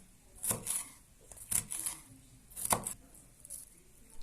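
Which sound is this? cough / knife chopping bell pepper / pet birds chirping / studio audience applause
knife chopping bell pepper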